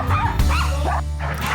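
Excited sled dogs, newly harnessed to the sled line in Alaska, yip, whine and bark in quick overlapping bursts, close and loud, with no talking.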